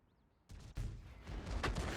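A sudden heavy blast cracks out from an SU-14-2 tank gun in World of Tanks, followed by a second boom and a rolling, rumbling roar that lingers and builds.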